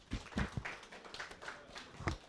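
Scattered clapping from an event audience in Toronto, a few distinct hand claps spaced irregularly at moderate level, thin rather than a full ovation.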